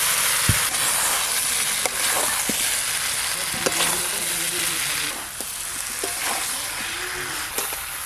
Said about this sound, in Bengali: মশলার সঙ্গে আলু আর এঁচড় ভালো করে কষে নিয়েছি